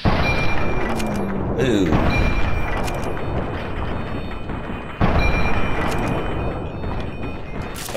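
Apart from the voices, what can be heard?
gunshots in the video game Fallout 3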